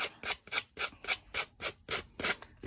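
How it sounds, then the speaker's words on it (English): Heavy-duty 60 grit sanding block rubbed in rapid back-and-forth strokes, about eight rasping passes in a steady rhythm, close and fairly loud with no talking. "this is a pretty heavy duty sanding block, so it's 60 grit"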